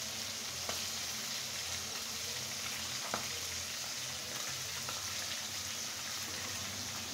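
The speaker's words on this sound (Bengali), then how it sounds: "যতক্ষণ না লাল হয় ততক্ষণ ফ্রাই করে নেব।" Greens frying in a pan until browned give a steady, quiet, even sizzle with a few faint clicks of stirring, with no voices.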